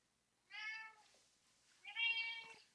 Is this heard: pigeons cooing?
no